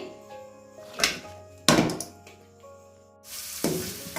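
Onion sizzling in hot oil in a pan, a steady soft frying hiss broken by a few sharp thunks and scrapes of a utensil against the pan, close by with no talking.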